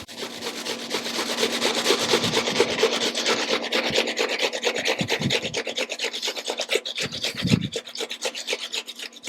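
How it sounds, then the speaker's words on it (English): Onion grated on a box grater, heard as a steady, loud, rhythmic rasping of rapid strokes close to the microphone, with a few heavier knocks partway through. "I'm going to put this underneath here and just keep grating."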